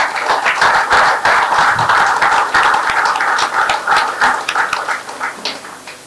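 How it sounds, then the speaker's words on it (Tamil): An audience at a book event in a Tamil-speaking hall gives loud, hearty applause for the book's author, a professor, with close, dense clapping that rises quickly and then gradually thins out toward the end. "நாம் ஒரு பலத்த கைத்தட்டலை கொடுத்து விடலாம்"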